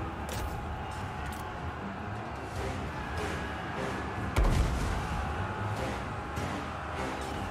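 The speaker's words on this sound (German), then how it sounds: "Oh, der andere Turm kann auch immer noch da durchschießen." Defense towers firing in a Total War: Warhammer 3 battle, distant thuds and cracks over a constant rumbling battle din, with one sharper, louder impact midway.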